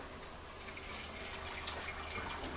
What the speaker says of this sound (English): I strain the water out, or the whey